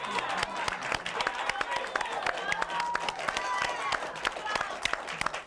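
A studio audience at a late-night talk show applauds, giving dense, sustained clapping with sharp individual claps standing out against a busy background.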